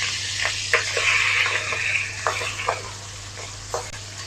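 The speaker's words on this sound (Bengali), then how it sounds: "এখন মাছগুলোকে ভেজে তুলে নেব।" Rohu fish fries in hot mustard oil in a kadai, a steady sizzle broken by several sharp crackles and scraping stirs, close and clear with no talking.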